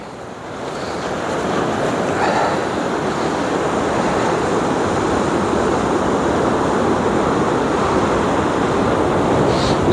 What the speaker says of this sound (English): Look at the wind blowing this bloody camera.